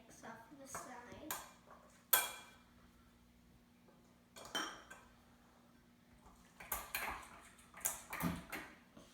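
A utensil scrapes mixture off the sides of a bowl, making intermittent clinks, taps and scraping strokes in short bursts separated by quiet gaps.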